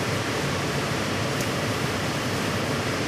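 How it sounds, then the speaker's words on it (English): Water running steadily as work surfaces are rinsed down while preparing to sow orchid seed on agar, a constant broadband wash with no talk. "Do a rinse down of my surfaces I'll be working on."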